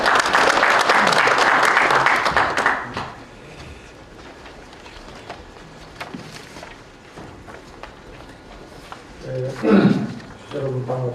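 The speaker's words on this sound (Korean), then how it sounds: "큰 박수로 환영 부탁드립니다." An audience at a Korean defense industry meeting claps loudly for about three seconds to welcome a speaker. The applause then dies away into quieter room sounds and speech.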